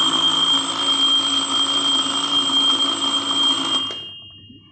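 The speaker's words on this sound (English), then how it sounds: "Yes, the alarm is ringing" A Casio TQ 358 alarm clock rings with a continuous, loud electronic beeping tone that holds steady, then cuts off abruptly and leaves a short fading tail.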